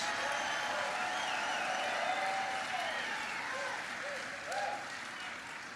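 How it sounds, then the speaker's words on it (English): Audience applause for veterans at a President Biden event at MiraCosta College in Oceanside, a steady crowd ovation heard from a distance with faint talk over it, fading slightly toward the end. "Let's give them a round of applause, everybody."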